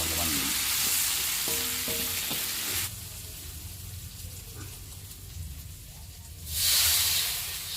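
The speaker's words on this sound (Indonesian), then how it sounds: "Kita tumis dulu nih bumbunya nih teman-teman." Spice paste sautés in a hot pan with a loud steady sizzle and hiss, joined by a few scraping stirs early on, dropping to a softer fry midway before flaring up loudly again near the end.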